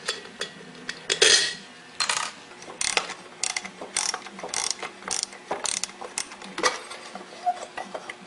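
Metal screws unscrewed from a transformer cover, where they pass through the front cover into the back cover, giving a close, busy run of small ratcheting clicks and metallic clinks with brief louder bursts.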